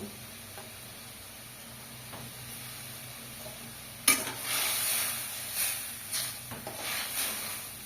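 A low steady hum, then a sudden loud sizzle and bubbling hiss as small fried fish drop into hot simmering curry, the sputtering swelling and easing afterward.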